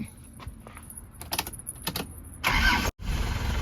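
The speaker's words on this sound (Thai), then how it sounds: "สตาร์ทฟังเสียงเครื่องยนต์ครับ" A few clicks and rattles, then the engine of a 1997 Isuzu TFR pickup truck cranks briefly and catches with a loud rumbling roar that drops for an instant and picks up again.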